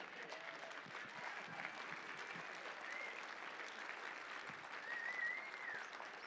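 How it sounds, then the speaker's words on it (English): An audience at the SAINTCON 2023 security conference breaks into sustained applause. The clapping is steady and dense across the hall, heard at a moderate distance without talk. "They deserve a huge round of applause."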